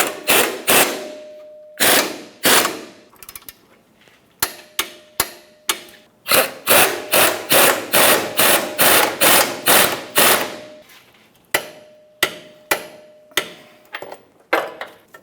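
Control arm bolts on a Dodge Ram 2500 are run down and tightened with a ratcheting tool, producing close, loud runs of rapid clicking pulses with brief pauses between sets, no talking.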